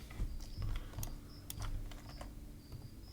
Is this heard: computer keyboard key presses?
yes